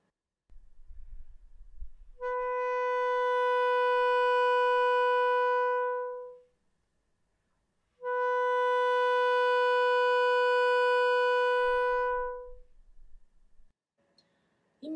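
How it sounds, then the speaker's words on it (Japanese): Bass clarinet sounding a high B in its upper register, two long steady sustained notes with clean pure tone, separated by a short breath pause, faint key clicks around them, played alone. "アンブシュアと息の方向を注意すればハーの音を出すことができます"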